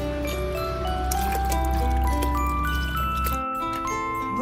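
One litre of milk poured into a pot for canjica, a steady liquid stream with ringing tones that runs for several seconds, then stops abruptly.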